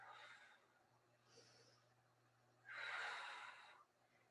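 Breathing during a core workout exercise: a soft breath near the start, a brief faint one mid-way, then a longer, louder forceful exhale or snort-like breath near the end, with a low steady hum underneath.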